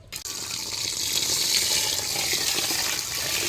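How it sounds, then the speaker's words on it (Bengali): Rice grains being washed in a steady stream of running water, a continuous close gushing and splashing like a tap filling a pot, with no talk. "এই যে আমি ভাতের চাউলটা ধুয়ে দিচ্ছি"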